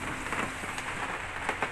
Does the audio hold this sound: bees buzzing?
no